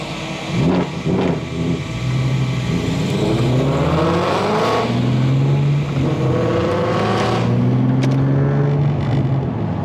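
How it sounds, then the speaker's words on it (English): A Ford Mustang Dark Horse pulls away outside a church, its V8 revving loudly with rising and falling pitch through several gear changes, close at first and then a little farther off. "We're gonna watch this Mustang take off."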